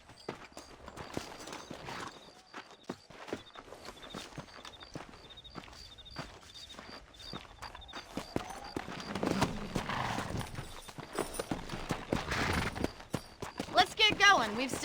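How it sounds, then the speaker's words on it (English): Horse hooves clip-clop on open ground in Red Dead Redemption, an irregular run of steady beats that grows louder and busier toward the end, mixed with other game sounds and voices. "Let's get back on the horses"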